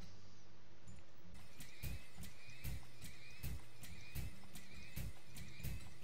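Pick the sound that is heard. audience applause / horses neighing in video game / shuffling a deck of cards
horses neighing in video game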